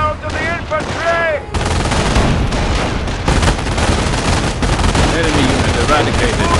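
Rapid gunfire and mortar fire in the real-time strategy game Company of Heroes during an Operation Market Garden battle, loud continuous rattling bursts and heavy thuds after a brief opening of game voice chatter.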